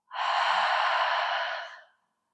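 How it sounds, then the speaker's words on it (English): A single long breath out through an open mouth during a yoga practice, a soft, airy whoosh that swells quickly, holds for over a second, then fades out, close and alone. "Open the mouth, breathe out."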